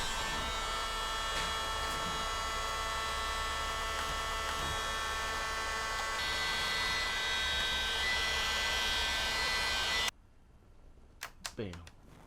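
A hot air gun blows onto thick leather dash wrap material for a Tesla Model 3 dashboard. It gives a loud, steady whooshing hum for about ten seconds, then cuts off abruptly, leaving near quiet with a few short sounds.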